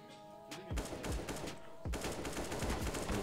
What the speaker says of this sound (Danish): Taco Skal får skudt en skud her